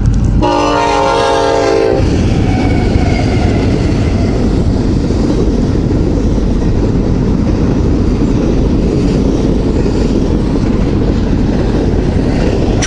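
Freight train passing at close range in the open desert, a loud horn blast at the start followed by a continuous heavy roar of wagons and wheels.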